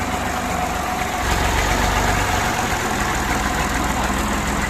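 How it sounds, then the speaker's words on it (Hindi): A tractor engine idles close by with a steady low chugging rumble that swells slightly partway through, with no talking. "हम ट्रैक्टर लेकर ना निकल जाते हैं सबसे पहले"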